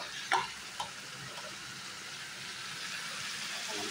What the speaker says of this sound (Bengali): এই যে দেখো আলুটা এখনো সেদ্ধ হয়নি, আবার কিছুক্ষণ ভেজে দিই